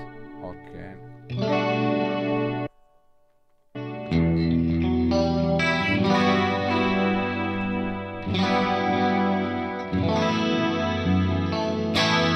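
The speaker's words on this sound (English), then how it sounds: "the high quantity chorus, the delay with the channel A with a big delay, okay, and I want to have the tremolo on." An electric guitar runs through a Fractal processor with chorus, a big delay and tremolo, playing loud sustained chords with a brief pause early on. Echoing, shimmering tails carry between strums.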